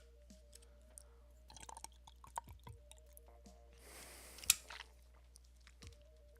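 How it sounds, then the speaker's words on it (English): Close-miked drinking of water: wet swallowing and lip sounds with a louder gulping burst in the middle, over a low steady hum, with no talking. "I'm gonna get a drink of water real fast."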